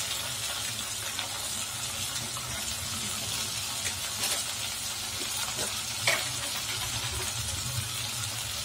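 Chili powder and turmeric sizzle steadily in a hot pan while a Tamil lentil curry is cooked. The frying is a dense, even hiss throughout, with a few faint clinks and no talk.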